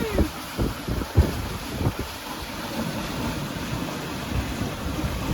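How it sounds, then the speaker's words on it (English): Wind gusts roar across a sailing boat under way in about 11 knots of breeze. The rumbling buffeting of the microphone comes with water rushing past the hull, strong and continuous. "Here comes another gust."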